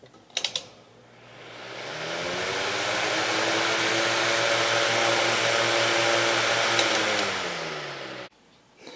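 A three-bladed electric fan with a ball bearing motor runs on its high setting, a steady broadband whoosh with a low motor hum that swells up, holds evenly, then clicks off near the end.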